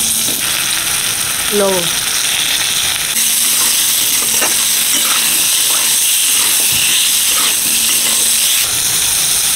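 Panch phoron spices sizzle loudly and steadily in hot oil at the start of a bean, eggplant and rui fish curry. The hiss stays close and continuous, and a voice speaks briefly over it.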